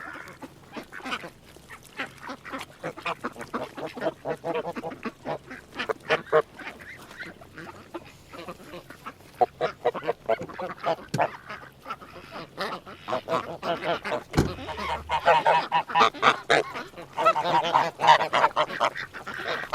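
Geese and ducks on a farm honk and quack in a busy, overlapping chorus that runs steadily throughout, with loud clustered calls at close range.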